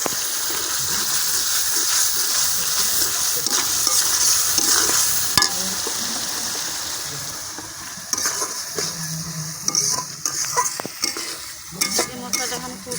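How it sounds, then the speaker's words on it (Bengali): Spice paste of salt, turmeric and chilli cooked down in oil for a rohu fish dish, a loud continuous sizzle under vigorous scraping stirs that grow choppier toward the end. "এই মশলাটা এখন কষিয়ে নিব তেল ছাড়া না পর্যন্ত"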